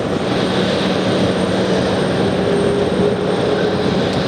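An Airbus A330 airliner lands at JFK airport with a constant, loud, rumbling engine roar that holds steady for a few seconds.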